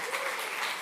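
Audience applause for speakers at a gastronomy summit, a steady wash of clapping held at a faint, distant level for under a second, with no talk over it.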